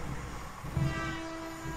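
A regional passenger train rolls past with a steady low rumble and a faint sustained tonal whine, wheel-on-rail noise holding fairly even throughout.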